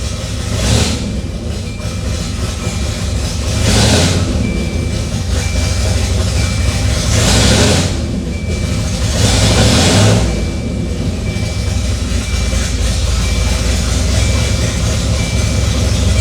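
A Volvo engine fitted with a new fuel system idles with a steady low rumble and rises in several broad, even swells as the throttle is opened and eased off. No one speaks.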